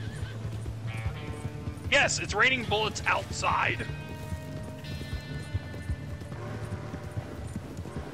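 A video-game horse in a barn during a rainstorm lets out a loud, wavering whinny midway, with hoof clip-clops and steady rain-like background noise, while players chat over it.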